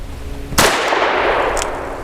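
A single sharp, loud shot from a Diamondback Sidekick revolver, a sudden crack followed by a ringing decay that carries through the rest of the moment.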